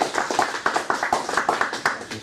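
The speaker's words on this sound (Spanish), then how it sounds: "sobre lo que es el Evangelio de Krishna, para el cual pedimos un fuerte aplauso." Applause for a lecturer about to speak on the Gospel of Krishna at a Gnostic institute in Los Angeles, heard as a short run of distinct, fairly close handclaps in an uneven rhythm, with no talking.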